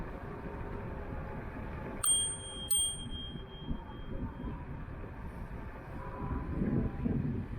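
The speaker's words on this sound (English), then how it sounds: "This trigger bell is pretty nice because it's easy to grab." Trigger bell on an Inokim Oxo electric scooter rung twice in quick succession, bright ringing chimes over steady road and wind rumble during an outdoor ride.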